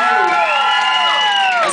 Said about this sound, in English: Let's go ahead and give them one more round of applause